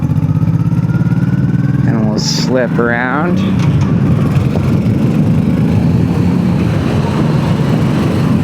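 A Honda Shadow 1100 motorcycle engine pulls with a steady, deep rumble and strong low-end torque, loud and close throughout, while someone talks over it.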